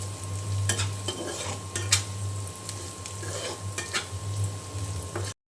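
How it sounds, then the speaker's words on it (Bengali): Onions frying in oil with cinnamon and cardamom sizzle softly under repeated scraping stirs of a spoon against the pan, along with a low steady hum. "এই যে তেলে পেঁয়াজ দিয়ে দিয়েছি, আর দিয়ে দিয়েছি দারুচিনি"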